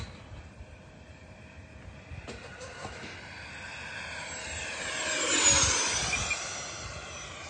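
A MotionRC L-39 model jet makes a flying pass outdoors at St. George, Utah; the turbine whine rises from distant to loud as it sweeps close overhead with a Doppler pitch drop, then fades.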